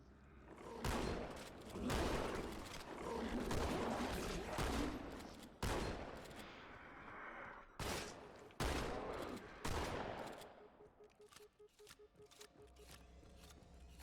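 Dense bursts of automatic gunfire in the Halo 2 video game, loud rattling volleys separated by brief gaps, thinning out toward the end into lighter clicks and shots.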